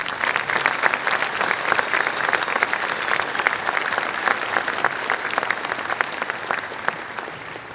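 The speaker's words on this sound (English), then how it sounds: "Let's give them another round of applause." A graduation audience claps warmly for the commencement choir, a full, sustained round of applause that stays loud and steady throughout with no talking over it.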